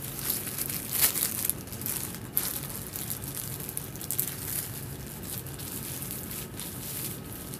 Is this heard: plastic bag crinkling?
yes